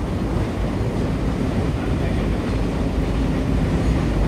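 The AC Double Decker Express pulls out of Renigunta Junction with a dense, steady roar of wheels and carriage rumble heavy in the low end, continuous and loud throughout.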